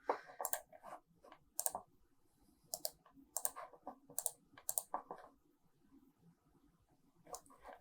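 Sharp, close computer mouse clicks in scattered single and double presses, each one crisp and dry, set against a quiet room with no talking.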